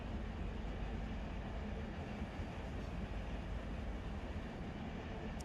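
Loaded freight train hauling hazmat cars in the Run 8 train simulator game, giving a steady low rumble of rolling wagons that holds even and continuous throughout, with no voices.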